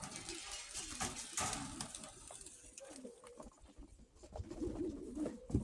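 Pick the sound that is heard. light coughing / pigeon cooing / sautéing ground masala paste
pigeon cooing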